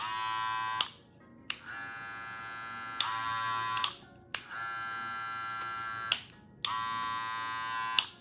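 An unoiled Babyliss LO-PRO hair trimmer buzzes with a steady electric hum, switched on and off for several short runs separated by brief silences.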